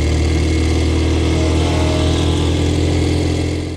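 A motorcycle engine roars under open throttle, a loud, close, sustained drone that holds steady and eases slightly at the end.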